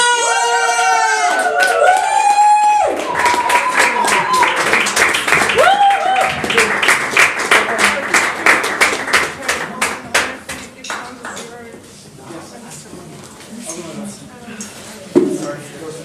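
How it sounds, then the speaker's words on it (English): Live audience applause at a poetry performance in Cafe Concerto, Vienna, with dense clapping and some cheering that swells loudly, then thins out and fades toward the end. "Welcome with me, with a warm applause, Angela Brett!"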